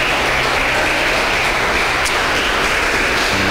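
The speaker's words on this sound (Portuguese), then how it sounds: "aplaude ao nome do Senhor" Congregation applauding at a church worship service, a steady dense wash of clapping held at an even loud level from start to finish, with no one speaking over it.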